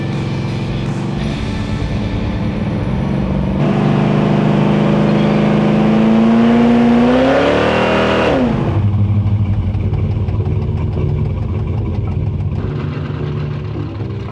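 Mercury Comet car on stock suspension drives past: a steady mid-pitched engine drone swells as it revs and climbs in pitch, then drops sharply as the gear changes and settles into a lower, even cruising hum, loud and continuous throughout.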